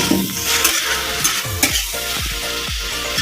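Tomato and onion fry loudly in a hot pan, a steady dense sizzle with a spoon scraping and stirring through it in repeated strokes, close up with no voices.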